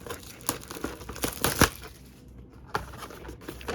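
Plastic wrap on a Walmart blaster box of trading cards is torn open, with close crinkling and crackling bursts, a few sharp rips, and a short pause partway through.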